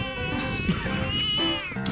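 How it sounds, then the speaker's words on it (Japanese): Cats meow at a campsite beside someone cooking, a couple of drawn-out, wavering cries close by over a faint background hum. "見て、料理してやっぱ猫寄ってきたよ。"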